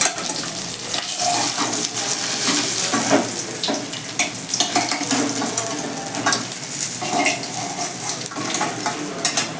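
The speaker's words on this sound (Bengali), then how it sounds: "মাছগুলো কিন্তু খুব বেশি কড়া করে ভাজবো না" Pieces of katla fish frying in hot oil in a pan, a loud, continuous close sizzle with crackling spatters and occasional stirring, without any talk.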